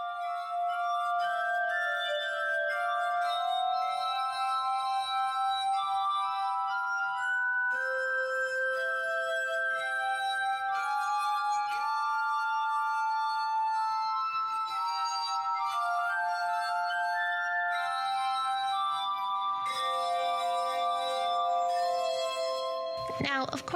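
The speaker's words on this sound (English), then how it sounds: "the glass harmonica, the one that Benjamin Franklin invented" Sustained ringing glass tones of a glass harmonica, the instrument invented by Benjamin Franklin, playing a slow melody of overlapping bell-like notes at steady, moderate loudness, with a few brighter clinks near the end.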